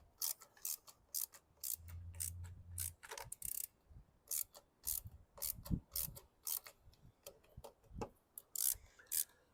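A socket ratchet snugs up the carburetor bolts on a 2016 Toro Recycler 725 SmartStow mower, producing close, crisp bursts of clicking in uneven runs with short gaps and small metallic handling noises, no talking.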